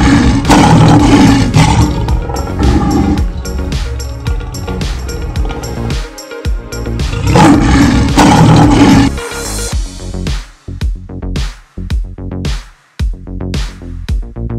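Lion roars amid loud backing music in an alphabet learning sequence, several strong bursts then scattered staccato hits toward the end, with no talking.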